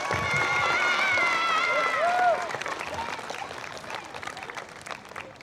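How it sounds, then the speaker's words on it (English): Applause for students at a school flag salute assembly, rising under a sustained voice with shifting pitch, then continuing as steady crowd clapping that slowly eases in loudness. "Let's give them a big round of applause."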